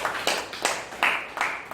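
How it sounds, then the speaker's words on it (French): A church congregation applauding, a few strong rhythmic claps in quick succession that swell and fade over under two seconds. "donnons une acclamation à notre Dieu"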